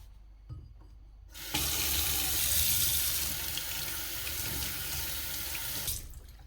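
Tap water gushes into a sink while carrot tops are rinsed, starting abruptly after a brief quiet handling noise, running steadily and loudly for several seconds, then cutting off.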